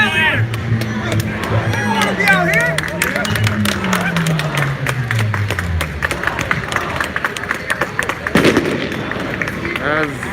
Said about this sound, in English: Sounds like firecrackers went off.